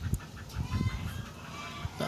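Golden pheasant calling in a breeding pen, giving a few short, clucking fowl-like calls at moderate distance over faint background noise, with no talking.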